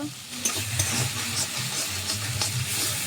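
Steady loud sizzling of greens stir-frying in oil, with occasional stirring scrapes, close up and continuous, no talking.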